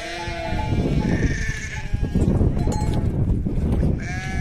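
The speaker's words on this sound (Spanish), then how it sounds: "Qué bonito están los corderinos." Lambs and sheep bleat repeatedly in several overlapping voices, close and clear over a steady farmyard background.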